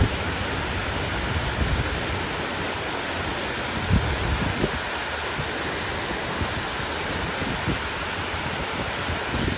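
The waterfall pools at the 9/11 Memorial in Manhattan pour continuously, a dense, steady rushing roar of falling water filling the scene with no speech.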